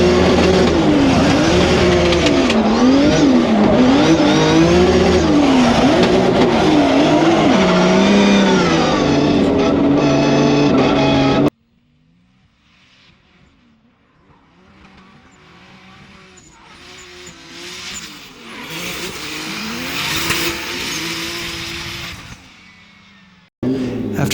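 A drift competition car in Poland revs hard with tires squealing, loud and close for about eleven seconds, then cuts to a quieter stretch where engine noise builds back up toward the end.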